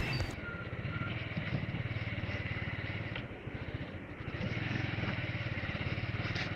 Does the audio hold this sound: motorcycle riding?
yes